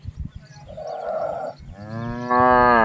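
A large, heavy dairy cow moos up close, a low muffled call followed by a longer, louder drawn-out moo.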